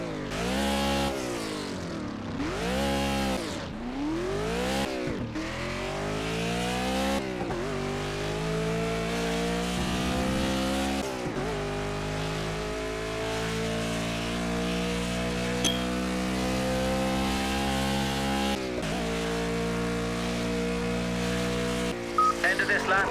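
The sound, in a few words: car driving and accelerating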